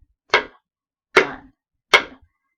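Spatulas used as drumsticks strike a small mixing bowl three times in an even, steady pulse, each hit a sharp, close, fairly loud knock with a short ring, alone and without talk.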